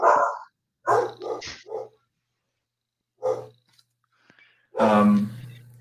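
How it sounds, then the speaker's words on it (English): Dogs bark in short bursts of several sharp woofs with silent gaps between them, the closing bark louder and longer, heard alone over a quiet background during an online group call. "I can still hear the dogs"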